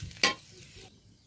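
Meat frying and being stirred in a pan at home: a sharp scrape of the stir near the start, then a low, quiet sizzle that fades off.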